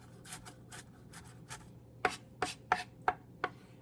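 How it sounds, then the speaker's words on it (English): A knife roughly chops kale on a board. Softer, brushing cuts come first, then five sharp, distinct knocks in a quick, steady rhythm, close up against a quiet room with no speech. "So about 3 slices. rough chop."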